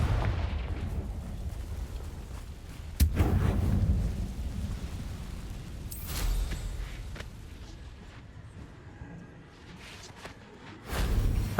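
A Confringo fire spell cast in Hogwarts Legacy bursts out as a sharp, deep boom, followed by a lingering rumble, with a second loud blast at the end over a steady low background of game ambience.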